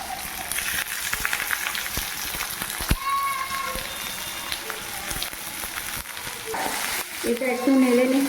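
Food frying in mustard oil in a pan, with mushroom and onion cooking and being stirred until browned: a steady crackling sizzle with occasional scraping, under a voice speaking throughout.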